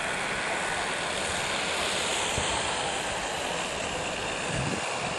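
Gas turbine engine of a turboprop model Spitfire built from a Fiber Classics kit, heard as a loud, steady roaring rush that holds unbroken throughout, with no talk over it.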